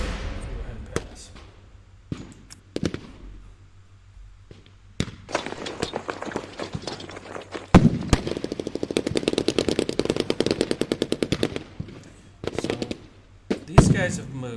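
Video game gunfire: scattered sharp shots early on, then a dense rapid burst of automatic fire for several seconds, loud and close, with a final heavy blast at the end.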